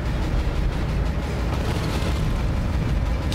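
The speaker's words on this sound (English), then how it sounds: "How long has it been since you fired a cannon?" Cannon fire in the Dead Space: Extraction video game: a continuous, heavy, rumbling blast texture with low booms running steadily throughout, with no voices.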